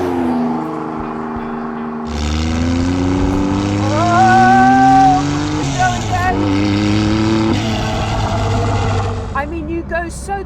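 A Jaguar XJ220 supercar, the very first production example once owned by Tom Walkinshaw of TWR Racing, accelerating hard with a loud rising engine note heard from inside, the pitch climbing through gear changes before settling.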